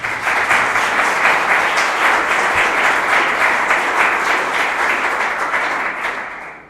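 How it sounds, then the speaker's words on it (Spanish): Loud, sustained applause from an audience at an academic religious-life event, a dense wash of many hands clapping that holds steady for several seconds before fading at the end, with no voices over it. "brindándoles un fuerte y caluroso aplauso"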